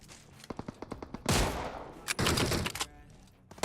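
Mosin rifle fire in PUBG, a few sharp cracks at first and then two long, dense bursts of loud gunfire with rapid reports, close and filling the mix, with no voices.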